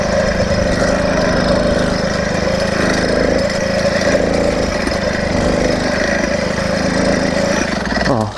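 A 100cc iron-sleeve motorized bicycle engine idles loud and close in a continuous buzzing drone on a cold morning, running steadily before cutting off abruptly at the end.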